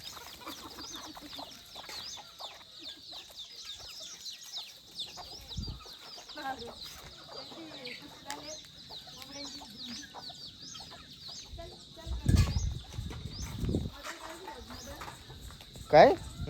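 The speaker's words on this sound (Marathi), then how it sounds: "तिकडे कोंबड्याचे झुंज लागले." Roosters squabble at a village home, with clucking and agitated fowl calls scattered across the scene amid insect chirps and faint background voices, plus a couple of louder bursts of scuffling near the end.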